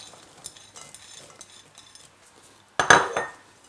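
A spoon works thick eggless dough with raisins in a bowl, giving soft scraping stirs followed by a sharp burst of clinking against the dish near the end.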